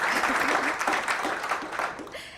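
Audience applause at an awards announcement event, steady clapping throughout with some speech-like tones mixed in, fading slightly toward the end.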